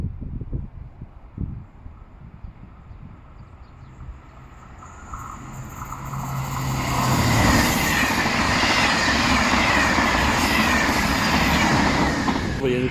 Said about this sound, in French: Il y a le TGV aussi.